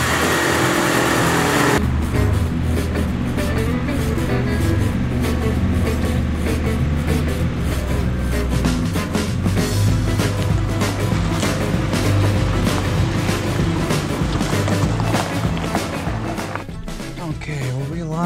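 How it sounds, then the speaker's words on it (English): Ford Bullnose truck engine, unstarted for a few days, cranks briefly and catches, then runs loud and rough at a fast idle close by, continuing steadily without talk. "The truck hasn't been started in a few days, so she might be a little angry when she starts"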